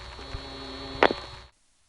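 A step-by-step telephone exchange switch making a call connection in 1976: a steady hum with a faint tone, broken by a brief sharp clack and a second smaller click, then sudden silence.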